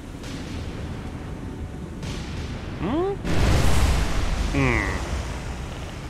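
Naval shell impacts in the warship video game War On The Sea, with several deep booming blasts and a rumbling low roar, mixed with whistling tones and a voice talking underneath.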